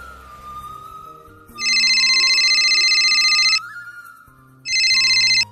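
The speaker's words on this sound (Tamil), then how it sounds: "உங்க உங்க ஃபோன் ரிங் ஆகிட்டு இருக்கு" A mobile phone ringtone sounds loud and close in two sustained bursts separated by a brief pause, with a quiet musical background tone underneath and no speech.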